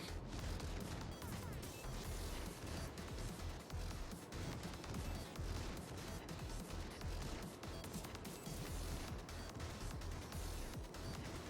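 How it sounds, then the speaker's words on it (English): Battleship secondary batteries firing in World of Warships Legends, a dense, continuous barrage of booming shots and crashes at steady volume that never lets up. "Looks like Colorado is within range of secondary batteries as well, so starboard side starting to fire at him"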